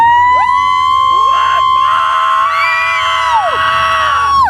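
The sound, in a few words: festival crowd cheering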